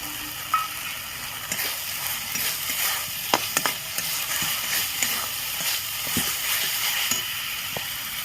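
Paneer masala frying with cumin powder is stirred in a pan, a continuous loud sizzle overlaid with scattered spoon scrapes and clicks against the vessel, no voices present.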